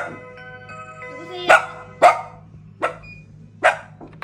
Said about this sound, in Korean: 초인종 소리나 밖에 사람 소리가 나면 이렇게 짖는 행동을 보여요.